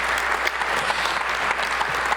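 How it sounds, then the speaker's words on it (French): Steady, even applause from the audience at an association general assembly, a continuous patter of many hands without pause. "Allez, on vous applaudit."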